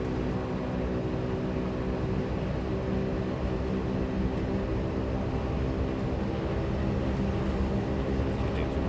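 A Beechcraft Duke turboprop starting its takeoff roll at night in Sweden, heard from inside as a steady, loud engine drone with layered propeller hum, holding even throughout.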